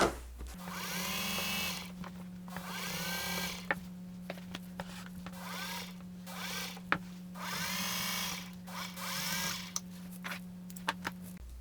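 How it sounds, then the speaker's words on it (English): A sewing machine stitches forward and in reverse on an upcycled denim satchel bag, with several bursts of rapid mechanical needle chatter separated by short pauses over a steady motor hum. "So a good reverse. This machine sews backwards,"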